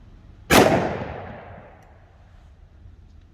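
A single sharp, loud shot from a SIG V-Crown 180-grain 10mm round fired out of a 5-inch-barrel 1911 pistol, followed by a decaying echo that fades over about two seconds.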